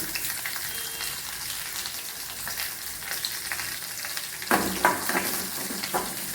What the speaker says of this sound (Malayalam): നമുക്ക് കടുക് വറുക്കാം.